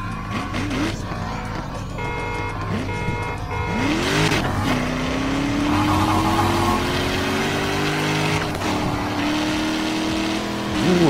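A Hellcat engine races in the NFS Heat video game during a street-meet roll race, revving hard with rising and falling gear-shift whines over tire noise, loud and continuous.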